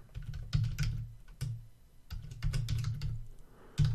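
Keys clatter on a computer keyboard as a variable name is typed, bursts of quick, close, fairly loud clicks separated by brief pauses.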